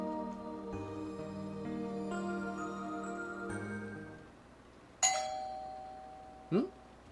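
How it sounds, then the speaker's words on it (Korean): An electronic doorbell chime in a video game rings out twice, a bright tone then a second shorter one, over a soft steady musical background. "새벽 2시에 초인종 소리가 들렸다"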